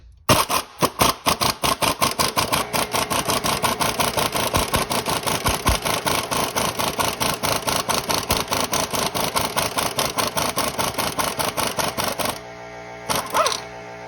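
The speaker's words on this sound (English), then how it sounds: "I had to give it a lot of bursts for that nut to come off" Rapid repeated bursts from an impact gun loosening a strut sway-bar link nut on a 2006-2011 Kia Rio or Hyundai Accent front strut, a dense continuous rattling hammer with short pauses, loud and close, then stopping near the end.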